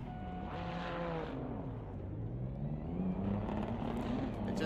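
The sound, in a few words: GT3 race cars on formation lap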